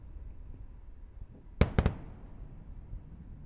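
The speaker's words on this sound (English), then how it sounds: "Those sonic booms just sounded here at the Kennedy Space Center." A Falcon 9 first-stage booster returning to land near Kennedy Space Center sends a sharp double sonic boom, two quick cracks a fraction of a second apart, over a low rumbling outdoor background.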